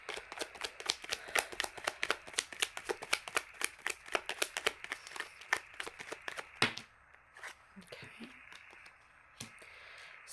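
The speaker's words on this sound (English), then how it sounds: "Let me just give a few quick shuffles." Tarot cards shuffled briskly in a rapid run of crisp riffling snaps, close by, then a pause with a few softer handling clicks.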